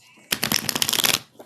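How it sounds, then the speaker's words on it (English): Playing cards riffle-shuffled close to the mic during a live stream, a rapid burst of crisp flutters lasting about a second before trailing off. "Thank you for a good shuffle that time."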